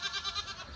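A goat bleats in a short, wavering series of quavering pulses, fairly faint and brief, at a seaside campsite in Fethiye, Muğla, Turkey.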